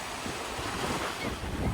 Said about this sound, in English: Hopefully you can hear me over the waves